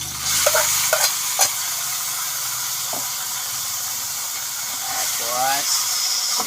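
Eggplant frying in a pan of hot oil, a constant loud sizzle and hiss with occasional clinks and scrapes of a utensil, and brief bursts of spatter.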